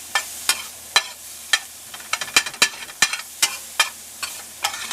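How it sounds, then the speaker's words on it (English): Onions frying in a pan until translucent for pork machaca with Mexican scrambled eggs, a low sizzle broken by a rapid run of sharp clicks and knocks from a utensil against the pan. "you're caramelizing your, well, not really caramelizing until your onions are translucent"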